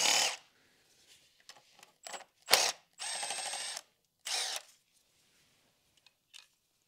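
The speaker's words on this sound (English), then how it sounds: "Now that I have all of the bolts loosened, I can remove them with power tools." A power tool removes flywheel bolts during a transmission and clutch job in a quiet workshop, giving several short separate bursts of whirring and ratcheting with gaps of silence between them.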